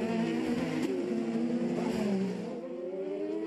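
An IndyCar with a Honda turbo engine drones low and strained as it bogs coming off a corner, the pitch rising sluggishly, then the note fades slightly as it pulls away.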